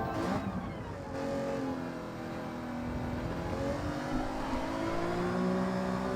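A Porsche race car driven in a racing game, its engine holding a continuous loud drone with shifting revs and slowly rising tones, up close and uninterrupted by speech.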